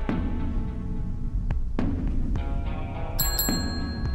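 Front-counter service bell dinging twice in quick succession in the horror video game Bloodwash, clear metallic rings with decaying overtones over a low droning in-game hum and a few dull thuds.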